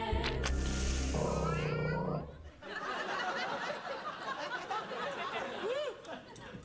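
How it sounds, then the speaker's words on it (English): Cat meowing and purring on a late-night talk show, opening with a short meow over music before giving way to audience laughter and chatter. "I'm getting worried about that cat."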